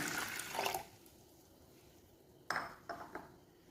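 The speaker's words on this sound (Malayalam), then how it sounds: "ഇനി ഇതിലേക്ക് ഒരു അര ഗ്ലാസ് വെള്ളം കൂടി ഒഴിച്ച് കൊടുക്കണം" Half a glass of water splashes into a pot in two short bursts with a quiet pause between, soft and close, amid faint clinks of kitchenware.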